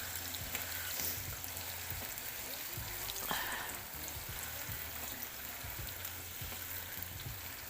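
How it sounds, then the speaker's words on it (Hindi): Two medium-sized chopped onions frying in a pan over medium heat, a steady soft sizzle with occasional stirring clinks and scrapes, fairly quiet throughout. "2 दरमियाने साइज़ के प्याज हैं और हमने इनको छोटा छोटा काट लिया है और इसके अंदर शामिल करेंगे।"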